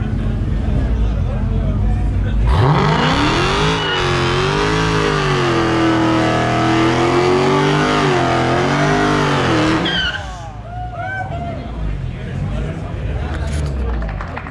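A turbocharged 351W car with a stock bottom end screams at high revs during a tire-shredding burnout at a local car show, a loud sustained wail with squealing tires that drops away abruptly near the end, leaving crowd noise and voices.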